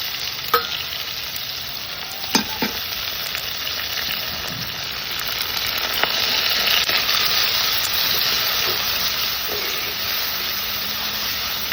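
Chopped green chili, ginger, garlic and shallots sizzle and crackle in hot oil, a steady frying hiss broken by a few sharp clinks of a utensil against the pan.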